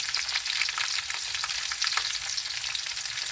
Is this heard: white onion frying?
yes